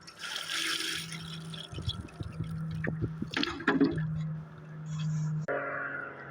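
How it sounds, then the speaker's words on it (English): Water poured from a small watering can onto the soil of a potted ginkgo tree, producing soft trickling, dripping and gurgling sounds that come and go over several seconds, close and fairly quiet. "And the last thing to do is give it some water."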